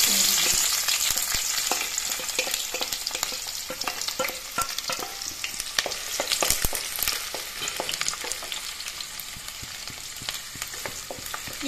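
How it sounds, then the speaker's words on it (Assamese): Chopped onions fry in hot oil in a kadai, a steady loud sizzle with crackling pops and stirring scrapes throughout, no voices. "এইফালে কেৰাহীটো গৰম হ'বলৈ দিছোঁ, তেলো গৰম কৰি ল'লোঁ একেলগে। তাৰপিছত কাটি থোৱা পিঁয়াজখিনি দি দিলোঁ।"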